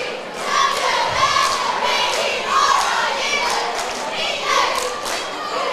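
A basketball crowd cheers and shouts steadily in a gym as cheerleaders take the court, with a commentator talking over the noise.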